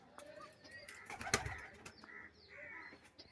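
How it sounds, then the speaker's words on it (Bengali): Soft, low coos from desi and Giribaz pigeons sound close by, with a brief flutter or rustle in the middle and faint chirps in the background. "দর্শক আমরা এখন এখানে আরেক জোড়া কবুতর দেখাবো"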